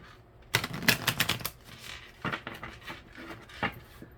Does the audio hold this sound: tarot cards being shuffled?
yes